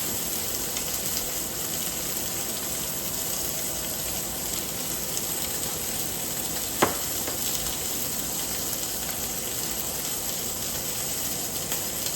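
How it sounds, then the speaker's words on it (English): Steak sears in a hot pan with a steady, close sizzling hiss and fine crackle that holds evenly throughout, broken once by a brief sharp tick partway through; no one speaks. "You can hear it searing on that side."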